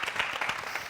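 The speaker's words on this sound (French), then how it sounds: "On va l'applaudir." Brief burst of studio audience applause on a French-language television show, quiet and fairly distant, a short patter of clapping hands lasting under a second.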